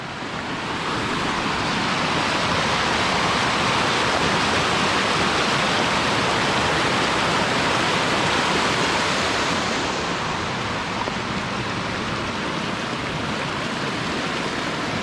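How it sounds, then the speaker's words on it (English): Water rushes down rocks at a rocky pool, a loud steady broadband roar that holds even and close throughout with no voices over it. "Quite a lot of water going down."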